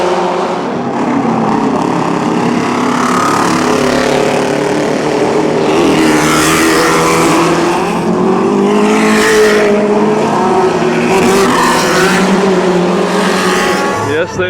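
Historic race cars roar past one after another on the Monaco warm-up lap, a loud, continuous engine din with rising and falling passes and occasional bursts as individual cars go by.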